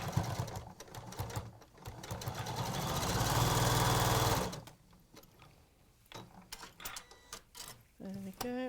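A sewing machine stitches fabric triangles for a cathedral window cushion, running in a steady mechanical whir for a few seconds before stopping, followed by quieter handling clicks and a brief voice.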